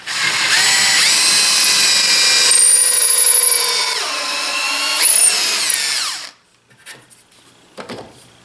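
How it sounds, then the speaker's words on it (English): A power drill whines steadily, its pitch dipping under load as it self-feeds into wood for a No. 7 plane handle, then stops, followed by a few light knocks. "Then I turn my drill on and I just kind of let it self-feed into that whole opening"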